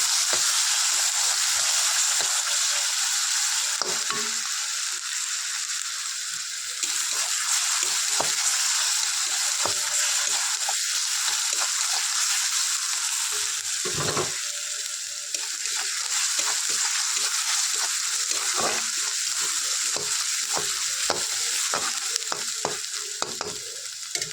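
Onions sizzle steadily in a very hot kadai, a loud, continuous hiss running throughout with scattered clicks and scrapes of stirring, and no voices.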